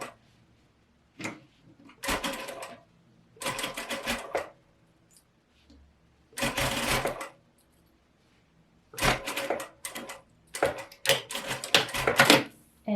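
A sewing machine stitching through multiple layers of pleats on a collarless top, heard as close bursts of rapid mechanical clatter separated by short pauses, with no talking.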